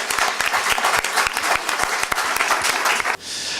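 An audience at an evening colloquium round-table applauds the panelists, a dense, steady wash of many clapping hands close by that stops abruptly near the end, leaving a faint room hum.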